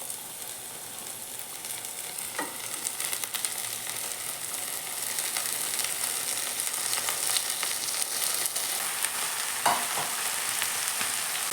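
Fresh fenugreek leaves fry with chilli in a hot pan for a North Karnataka-style palya, giving a steady, close sizzle that builds slightly, with occasional scrapes of stirring and no voices.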